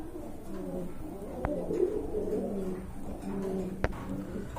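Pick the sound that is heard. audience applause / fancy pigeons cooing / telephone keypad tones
fancy pigeons cooing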